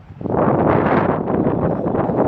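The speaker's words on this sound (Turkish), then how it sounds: "Şu an çok rüzgar da var zaten." Strong wind gusts buffet the microphone in a loud, continuous rushing roar, with no voices.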